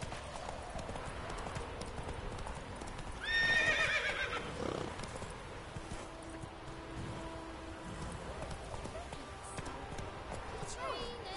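Horse hooves clip-clop steadily beneath a rider in The Witcher 3: Wild Hunt, with a brief loud whinny early on against constant game ambience.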